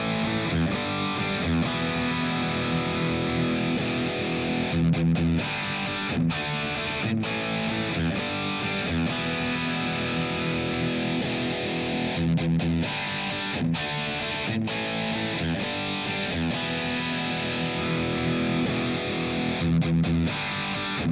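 Distorted electric guitar played through a cabinet and mic impulse response, a dense, continuous riff with short choppy breaks, loud and upfront with no talking.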